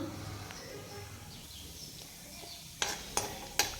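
Faint frying hiss with soft crackles, then three sharp spattering bursts near the end as mustard, cumin and sesame seeds pop in hot oil.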